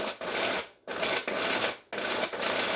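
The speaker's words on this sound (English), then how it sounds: "You see it all blending there." Countertop blender pulsing basil for pesto in repeated bursts of dense, gritty whirring, each roughly a second long and separated by brief pauses, loud and close with no talking.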